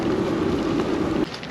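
Steady rain falls by a riverside, a dense, even hiss of drops that stays loud and constant throughout, with no voices.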